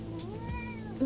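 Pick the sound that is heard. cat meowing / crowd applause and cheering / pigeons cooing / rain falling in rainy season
cat meowing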